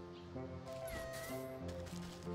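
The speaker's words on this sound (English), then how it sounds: "This cat deserves a treat." A cat in the video game Wytchwood meows and caterwauls in drawn-out cries over steady game music, with a person talking nearby.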